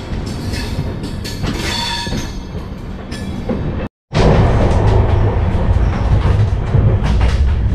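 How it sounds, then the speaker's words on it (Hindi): Bangalore Rajdhani Express pulling out of Nagpur, heard from on board as it rolls along the rails: a loud, steady rumble with clattering wheels and squeal, broken by a brief dropout halfway, then continuing. "गोरखपुर को एक साथ अलविदा कहते हुए हमारी ट्रेन बढ़ चली है यहाँ से।"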